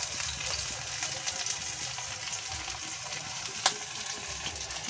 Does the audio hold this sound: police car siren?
no